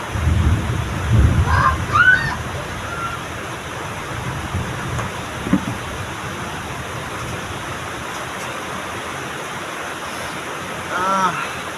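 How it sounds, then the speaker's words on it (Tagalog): Heavy rain pours down during a typhoon in a steady, roaring hiss, with a few deeper rumbles rising briefly near the start and the end. "Sobrang lakas ng ulan dito."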